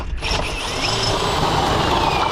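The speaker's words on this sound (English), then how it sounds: "We'll grab our gun, and we're gonna have it on our torque setting." An impact gun on a torque setting tightens the brass nut assembly on a Pentair Clean and Clear pool filter: one loud, continuous whirring, ratcheting burst heard up close.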